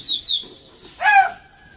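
Short, bright pigeon calls, two quick chirps followed by a louder warbling call, close by with faint background noise and no talking.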